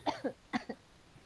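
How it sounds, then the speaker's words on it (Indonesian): Four short, sharp coughs come close together, in two pairs with a brief pause between, fairly faint and alone in a quiet room. "batuk ya, bentar"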